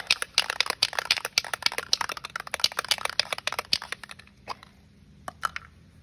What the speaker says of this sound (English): You will shake it up.